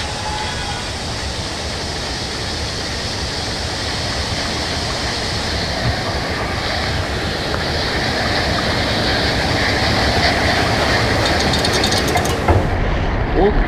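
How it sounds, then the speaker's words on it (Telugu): Water rushes in during a puzzle in the side-scrolling video game Limbo: a steady, loud, full-bodied roar that swells slightly toward the end, with a soft thump near the close. "ఓకే, నీళ్ళు వస్తున్నాయి ఇక్కడ."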